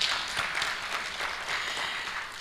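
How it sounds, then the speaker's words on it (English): An audience at an annual public lecture claps steadily in a dense, even wash of applause that holds at a moderate level throughout without breaks. "let's make the third round of applause"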